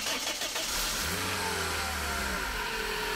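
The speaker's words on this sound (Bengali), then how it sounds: "দেখেন, আমরা গাড়িটা স্টার্ট করব।" A Toyota Hiace Super GL van's 2000cc VVT-i engine cranks and catches, then settles into a smooth, low, steady idle, heard close up and alone.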